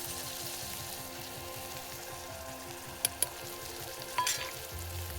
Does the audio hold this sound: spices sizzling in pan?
yes